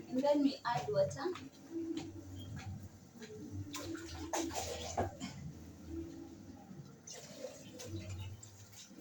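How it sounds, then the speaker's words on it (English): Water is poured into a pot of pishori rice with a soft, low-level splashing run, while a voice talks over the start. "and then we add water."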